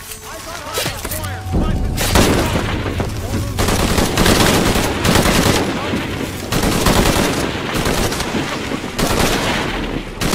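Heavy automatic gunfire in Shadow of the Tomb Raider at an oil field, loud continuous bursts of machine-gun fire rattling for several seconds with short pauses, close and dominant.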